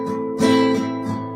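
Spanish guitar chords strummed down, up, down, the first downstroke of each group hit harder, giving a few quick close-miked strokes in a short burst with no voice.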